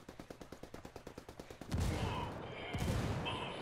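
Gunfire in Ghost Recon Wildlands: a steady burst of rapid automatic shots for about a second and a half, then heavier, louder sustained firing and blasts, with faint voice traces underneath.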